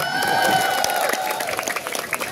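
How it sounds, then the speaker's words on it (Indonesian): An audience at a village Maulid Nabi gathering breaks into applause, a dense burst of clapping with crowd noise that thins out toward the end. "Tepuk tangan dulu"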